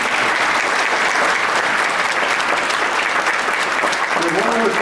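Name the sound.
audience applause for award recipients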